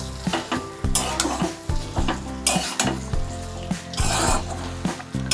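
Mutton keema fries with tomato in oil while a spatula stirs it, giving repeated rhythmic scraping strokes over a close, continuous sizzle.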